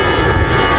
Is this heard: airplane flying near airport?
yes